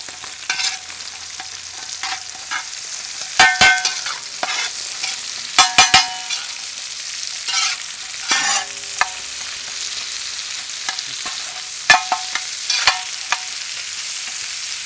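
Garlic, ginger and chopped onion stir-fried for chow mein, a steady sizzle with repeated scraping clatters of the stirring utensil against the pan, close and fairly loud, no talk.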